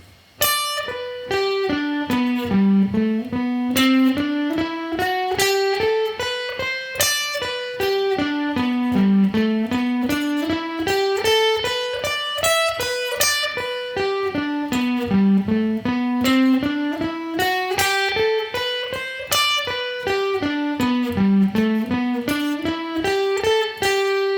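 Guitar notes plucked in a steady, even stream, climbing and falling through major arpeggios, major pentatonic and scale runs in repeated waves, clear and alone.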